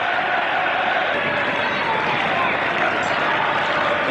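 A stadium crowd of 30,000 at a 1997 France versus Brazil football match makes a broad, constant roar under a commentator's talk.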